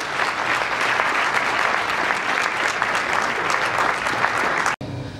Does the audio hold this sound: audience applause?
yes